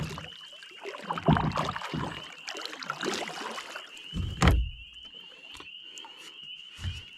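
Canoe paddle strokes splash and gurgle in water, a few irregular dips and swishes, fairly close, with a steady high electronic whine from a sonar ball in the background.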